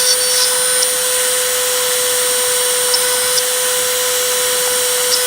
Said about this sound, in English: if you can hear me above the roar of the drill